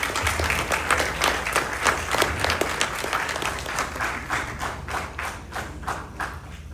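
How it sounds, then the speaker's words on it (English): A crowd at a children's carnival band launch applauds the main sponsor. The clapping is full and sustained, with a few louder claps standing out and a soft murmur underneath. "Give them a round of applause again"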